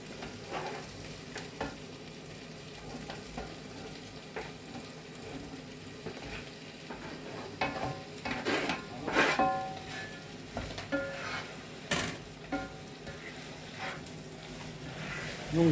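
Diced chicken sizzles and fries in a pan while being stirred, a steady close crackle with scraping bursts of utensil stirring that grow busier midway through.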